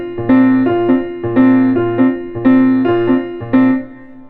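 Solo piano demonstrating a bouncy jazz waltz pattern: four repeated chord groups in a lilting triple-time rhythm, each with a strong low accent followed by lighter chords, close and clear with no voice.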